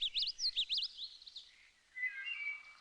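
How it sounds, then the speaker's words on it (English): Common snipe in wild country call with a quick series of high, clear, looping chirps, followed after a pause by a thinner, faint trill, with no other sound around them. "you can sometimes find nesting birds, like this common snipe"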